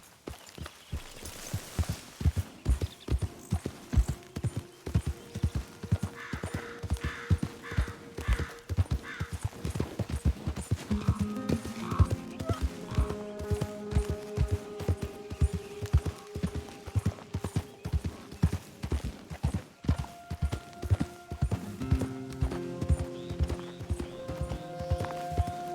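Horse hooves clip-clop steadily and close in Red Dead Redemption 2, a regular walking rhythm that continues throughout over faint ambient sounds and brief low background voices.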